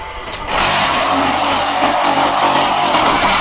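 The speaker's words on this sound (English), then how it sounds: "Then head motor, vibration motor and platform vibration motor will start to work." A QT4-40 small concrete brick machine kicks into operation, its head motor, vibration motor and platform vibration motor starting together into a loud, steady broadband roar and buzz that holds constant, with no voices.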